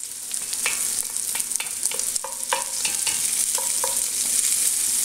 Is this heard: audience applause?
no